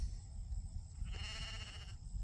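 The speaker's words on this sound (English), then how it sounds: "Come on, sheep. Sheep." A sheep on a farm, near a water trough, lets out a single drawn-out bleat of about a second, fairly close, over steady outdoor background noise.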